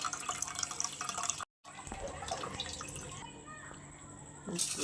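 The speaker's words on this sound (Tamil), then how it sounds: "அதனால் ஃபஸ்ட்டு புளியை கரைச்சிக்கிறாங்க" Close-up squishing and sloshing of water as tamarind is squeezed and dissolved in it by hand, with drips and a brief silent break.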